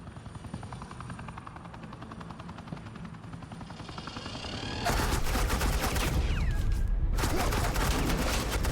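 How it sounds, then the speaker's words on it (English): Suppressing gunfire in Batman The Enemy Within, dense rapid automatic bursts over a loud helicopter rotor thump, with the firing growing louder and more intense partway through. "Suppressing fire."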